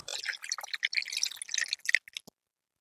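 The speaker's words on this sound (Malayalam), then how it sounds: "ഈ ജ്യൂസില്ലേ നമ്മൾ ഈ മാമ്പഴം പൊളിച്ചു വെച്ചേക്കുന്ന അതിന്റെ അകത്തേക്ക് ഒഴിക്കുവാണേ" Juice is poured into opened mangoes in a kitchen, with a short run of wet, splashy dripping and trickling that stops abruptly after about two seconds.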